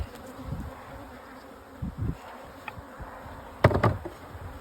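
Honeybees buzz steadily around a hive during a beekeeping visit, a continuous droning hum with a few louder, closer passes and some brief knocks, and no talk.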